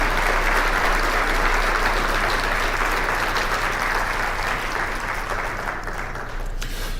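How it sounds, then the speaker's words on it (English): Sustained applause from an audience at a talk, a steady wash of many hands clapping at moderate volume throughout, easing slightly toward the end. "a little bit louder applause"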